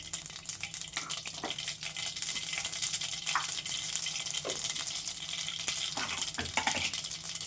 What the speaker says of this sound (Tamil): கடாயை வச்சுருக்கேன், எண்ணெய் விட்டு கொஞ்சம் கடுகு போட்டிருக்கேன்